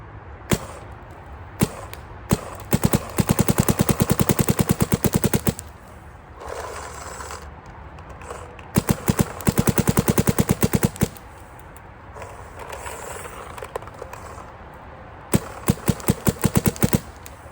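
Rapid shots fired through a urethane tack during cold-weather testing, coming as loud, close bursts of fast repeated cracks separated by short pauses, with no talking.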